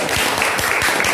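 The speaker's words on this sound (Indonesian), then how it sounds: "tepuk tangan." A class applauds after group presentations in a teacher-training session, a dense, steady patter of clapping that holds close and fairly loud for the whole second.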